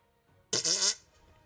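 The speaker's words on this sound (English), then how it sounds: "you hear a fart" A single loud, rasping fart sound effect lasting about half a second, heard on its own against near silence during a tabletop fantasy dungeon game session.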